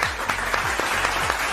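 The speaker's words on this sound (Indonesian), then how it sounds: "kasih apresiasi dengan tepuk tangan yang meriah sekali lagi" Brief burst of crowd applause, many hands clapping steadily at moderate loudness.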